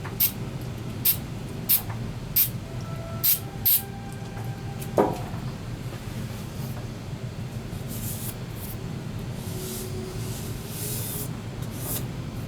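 Five short hissing bursts from an aerosol spray can, sprayed onto an inkjet-printed HO scale model building, come in quick, regular succession, followed by a quieter stretch and then a few softer sprays later on.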